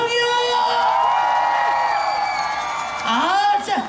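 A large outdoor concert crowd at the Olympic Park peace plaza stage in Seoul cheers and whoops loudly and continuously, with high excited shouts rising again near the end.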